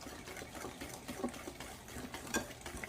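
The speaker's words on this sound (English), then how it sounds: "Now, we just want to give that another quick mix" Bread pudding mixture with vanilla being stirred in a bowl, a close, soft scraping swirl with a couple of light clinks of a utensil against the bowl, steady and unhurried.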